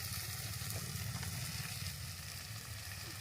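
Ginger garlic paste frying in oil for a catfish curry, a steady close sizzle running throughout with a low rumbling undertone and no voices.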